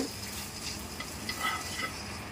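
Breakfast batter spooned into a hot pan fries with a soft, steady sizzle, joined by faint scraping stirs and light clinks of a spoon, quiet and close with no voices.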